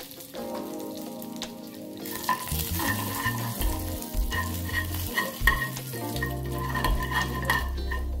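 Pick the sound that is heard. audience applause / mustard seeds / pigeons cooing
mustard seeds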